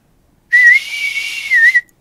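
A single sustained whistle from a person trying to get someone's attention, loud and close, holding one steady high pitch with slight rises at the start and end for just over a second.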